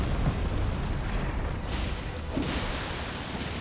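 The Magma Wyrm's fire attack in Elden Ring: a continuous, heavy roaring blast of flame with deep rumbling body, swelling slightly midway and sustained throughout.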